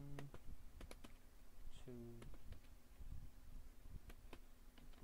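Typing on a computer keyboard: a few scattered, faint keystroke clicks against a steady low hum, with a brief spoken word partway through.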